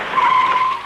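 A car skids to a stop with a sharp, high tire squeal lasting just under a second, loud and close, rising then fading.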